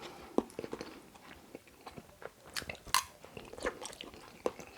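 Close, crisp chewing of egg foo yung with crunchy bean sprouts and peppers, irregular bites and crunches in a quiet setting, with no talk.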